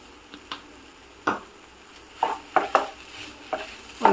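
Spices and oregano are stirred into a filling in a pan for homemade McPuffs, giving a handful of sharp spoon scrapes and taps against the pan over a faint sizzle, close and alone.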